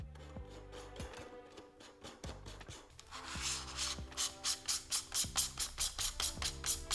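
Threaded metal filter step-up rings, 67 to 72 mm and 72 to 82 mm, are screwed together for an iPhone 15 Pro filmmaking rig: close, soft scraping and rubbing, then a run of rhythmic ratcheting ticks as the threads turn.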